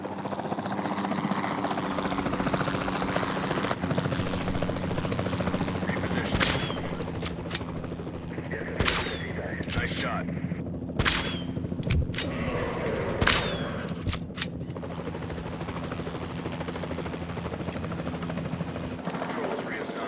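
A helicopter flies overhead in a dinosaur capture video game, a steady rotor drone under repeated sharp gunshot-like bursts, with speech in places.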